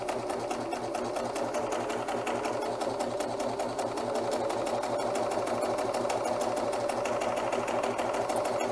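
A serger sewing machine runs steadily and close by, its fast even stitching hum finishing the edges of fabric strips at a long stitch length, with no pauses throughout.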